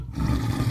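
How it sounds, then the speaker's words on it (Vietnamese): A tiger roars as a sound effect in a Vietnamese Buddhist audio story, one short, deep, loud roar heard alone. "Nhìn về phía có tiếng hổ gào"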